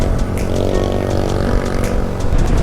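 Loud motorbike engines in city traffic near Manado, North Sulawesi, a close harsh droning roar with buzzing harmonics holding steady throughout, no talk over it.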